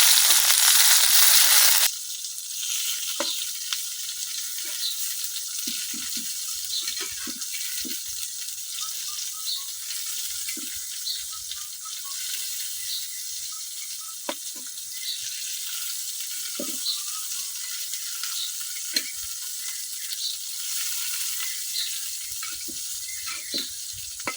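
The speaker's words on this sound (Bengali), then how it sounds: "এই বড়াগুলো একবার অল্প আছে, অনেকটা সময় নিয়ে ভাজি করা লাগবে।" Poa fish fritters made with stone-ground chili and wrapped in taro leaf frying in oil, a steady close sizzle with a few faint pops throughout and no talking.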